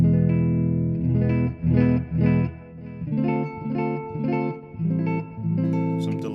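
Clean electric guitar chords through a Mesa Boogie Dual Rectifier Tremoverb amplifier, strummed in a steady rhythm, bright and close, with several short pauses between strums and no voices.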